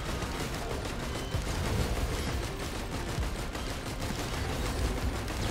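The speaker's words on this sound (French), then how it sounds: "Ah ouais, mais les explosions des ennemis." Dense, continuous bursts of gunfire and enemy explosions in Risk of Rain 2, loud and chaotic, with rapid overlapping impacts and no pauses.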